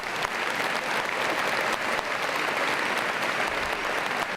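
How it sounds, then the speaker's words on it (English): Audience at an annual meeting giving a round of applause for honoured students, steady dense clapping throughout, loud and continuous. "Please give them a round of applause"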